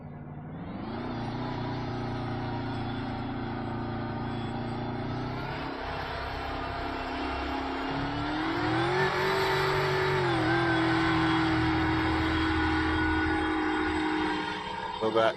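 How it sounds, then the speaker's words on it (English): A loud car engine in the video game DayZ drones steadily throughout, rising in pitch as it revs up midway, with a voice talking faintly underneath. "right now the car is like super loud"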